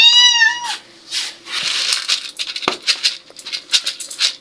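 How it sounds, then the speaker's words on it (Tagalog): A pet cat meows once near the start, a clear rising-and-falling cry, followed by scattered rustling and light tapping sounds close by. "Ang pusa namin."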